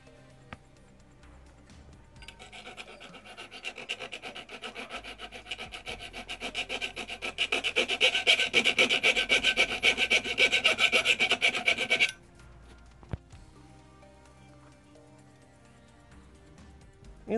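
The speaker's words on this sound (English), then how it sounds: "It gave me extra leverage and more accuracy when I was cutting this" Hood of a Hot Wheels Dodge gasser toy truck clamped in a vise being cut, with a rapid rasping back-and-forth sawing that builds louder near the middle, then stops abruptly, followed by a quiet stretch with a couple of small knocks.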